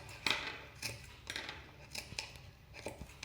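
Scissors snip through blouse fabric and canvas, working bit by bit around the curves of a front neckline; a series of short, crisp cuts at close range in a quiet room.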